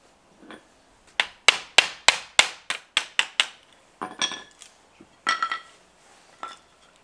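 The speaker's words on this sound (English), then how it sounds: "You can do it with the chisel as well." Sharp, ringing hammer blows drive a chisel into pallet wood for a raised bed. A quick run of about ten strikes is followed by scattered scraping and a few lighter taps.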